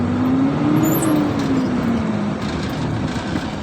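An unladen Hino truck with a 260 hp engine and an eight-speed gearbox pulls off in second gear. Its close, loud diesel drone rises in pitch, then eases back down as it moves away.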